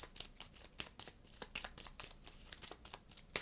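Someone shuffles a deck of cards for a solo tabletop board game, producing a series of quick, soft papery riffles and crinkles in an uneven rhythm, close and fairly quiet with no voices.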